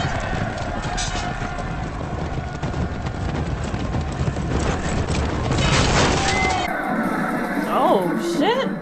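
A horse neighs during a Game of Thrones joust scene: a brief whinny near the end, over a dense, loud background of hoofbeats, crowd clamour and clattering, with a voice talking.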